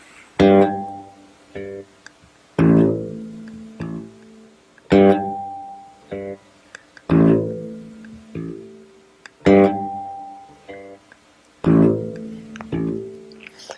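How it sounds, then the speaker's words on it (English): A plucked bass note repeats about every two seconds, each strong attack followed by a quieter note, the pattern alternating loud and soft on its own. "I try to make it sound like this: alternate loud and soft at first."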